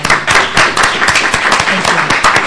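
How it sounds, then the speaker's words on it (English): A crowd at a state senate clean-tech industry hearing claps steadily for the panel speakers, dense continuous applause filling the room. "Let's please applaud the speakers this time."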